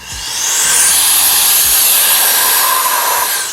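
2-in-1 electric air duster and dust blower running, a loud steady whooshing blast of air with a high whine, ramping up and holding for a few seconds before easing off.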